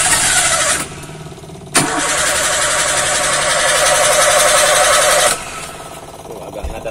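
A Zebra car's engine cranks on a newly fitted battery without firing. A brief crank is followed by a pause, then a long loud grinding crank of about three and a half seconds that stops abruptly. The engine never starts.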